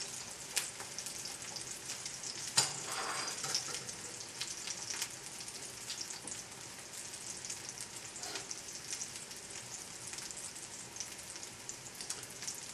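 Pea and mint patties fry in hot oil with a continuous, close crackling sizzle, scattered pops and spatters breaking through the steady hiss.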